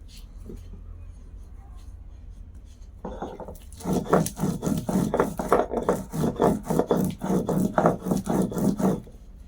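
Spices being ground on a stone slab (sil): after a quiet start, a steady run of rhythmic rasping strokes, close and loud, repeats for several seconds before stopping.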